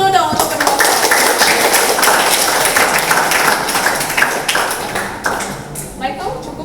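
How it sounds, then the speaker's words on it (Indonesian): An audience at a school debate between two high schools breaks into sustained, dense clapping. The applause is loud and close and gradually thins toward the end, with some voices in the background. "Tepuk tangan dulu dong untuk kedua."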